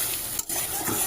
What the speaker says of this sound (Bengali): এবার অনেকক্ষণ ধরে একটু কষাবো।